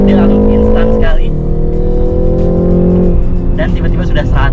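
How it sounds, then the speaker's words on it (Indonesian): A BMW G20 330i in Sport mode accelerates hard with a loud exhaust, the engine note rising, dipping at a gear change and climbing again, while a voice talks over it. "Dia langsung berbeda suara knalpotnya ya, langsung keras, dan kalau kalian kebejek, wah, dia langsung instan sekali."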